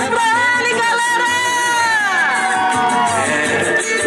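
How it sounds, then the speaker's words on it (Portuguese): A lively crowd in a Brazilian street or store setting cheers and whoops loudly, with shrill excited voices and shouting sustained throughout and clapping buried under the noise. "Uma salva de palmas pra ele, galera!"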